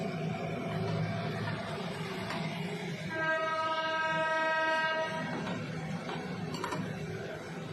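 At Dum Dum railway station a train rumbles past amid steady platform noise, and a long, loud horn blast rings out through the middle of the passage, with the rolling clatter continuing after it.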